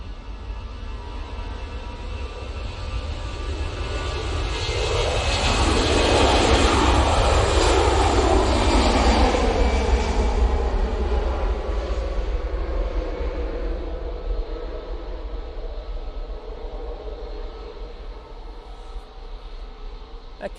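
An easyJet airliner departs Manchester Airport for Geneva, its jet engine roar building to a loud peak as it passes and then slowly fading over about twenty seconds, with no voices.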